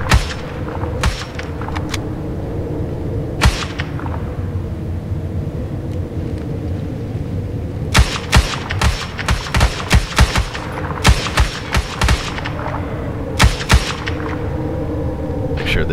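Gunfire in a 1990s Navy SEALs firefight video game set in wintry Russia: loud, close bursts of sharp rifle shots, a few isolated early, then a dense rapid run of shots, over a steady low rumble.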